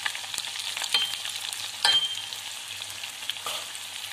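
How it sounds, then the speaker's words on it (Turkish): Floured chicken livers fry in hot oil for Albanian-style liver, giving a steady, moderately loud crackling sizzle with a few sharper pops and spatters close by. "Şimdi kızgın yağ ciğerlerimizi atıyorum."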